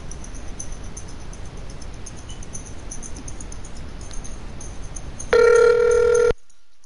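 A telephone rings once, a loud steady electronic tone lasting about a second that cuts in sharply over a faint hiss and then stops abruptly.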